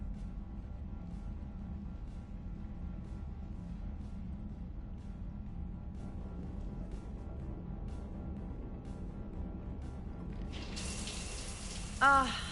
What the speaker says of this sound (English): I figured you'd be more interested in a shower.